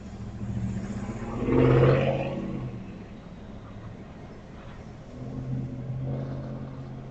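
A tractor trailer engine rumbling as the truck drives while dragging a road sign, a mid-pitched roar swelling loudly once then easing, with another softer swell later, heard from a moderate distance.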